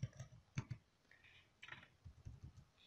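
Keystrokes on a computer keyboard while writing MATLAB R2018a code, quiet, irregular clicks in short bursts, fairly close and alone with no talk.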